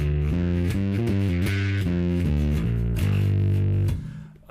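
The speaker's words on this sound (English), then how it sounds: "A nice slight gritty distortion, sounds really good for those old school and vintage bass sounds." A bass guitar riff through a B1XON with a light, gritty overdrive, notes played in a steady run before ringing out and fading at the end.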